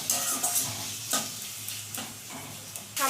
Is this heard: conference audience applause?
no